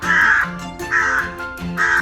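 A crow caws loudly and close three times in an even rhythm, harsh nasal calls spaced by brief pauses, used as a sound effect in a Hindi animal fable.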